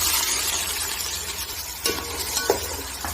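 Onions going into roughly 1.5 cups of hot oil for chicken pulao, with a steady close sizzling hiss and a few sharper spits and pops partway through.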